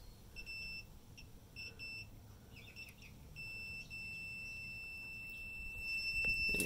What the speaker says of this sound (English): So I've got my multimeter on continuity.